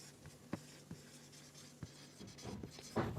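Chalk or marker writing on a board during a biology lecture, with short scratchy strokes and small taps at an uneven pace, soft and close in a quiet room, no speech.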